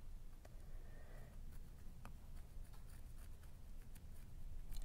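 A marker pen draws lines across fabric for a no-sew pencil roll, making faint, close scratchy strokes with a few small taps in an otherwise quiet room.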